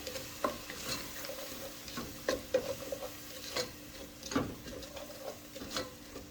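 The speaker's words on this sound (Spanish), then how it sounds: "Revolvemos bien." A spoon stirring sofrito seasoned with salt and oregano in a pot for barley soup with ribs, irregular scraping knocks against the pot over a soft low sizzle, close and fairly quiet.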